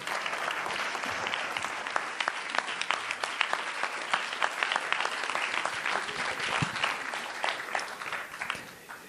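A theatre audience at a film premiere applauds warmly, dense sustained clapping from many hands with scattered louder claps standing out, continuing without pause.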